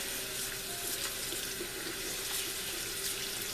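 Tap water runs steadily as hand-dyed wool fabric is rinsed under it, a close, even splashing rush that never lets up.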